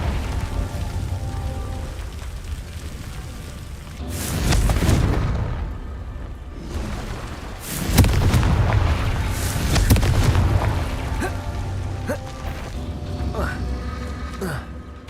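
Confringo blasting curses explode in the PC game Harry Potter: Hogwarts Mystery, two heavy booming blasts with rumbling tails over a busy game soundscape.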